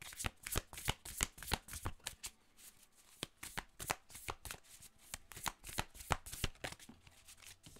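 Tarot cards are shuffled close by in rapid riffling bursts, sharp and crisp, repeating many times in an uneven rhythm with brief pauses between, and no speech.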